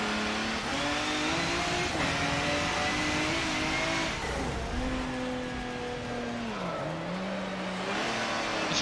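A racing truck engine in Forza Motorsport 7, loud and continuous, with revs climbing and dropping through gear changes and a drawn-out tire squeal in the middle, heard without any talk.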